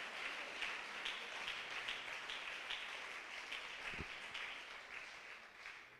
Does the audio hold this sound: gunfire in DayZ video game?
no